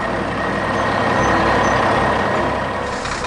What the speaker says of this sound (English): A giant yellow crane truck has arrived.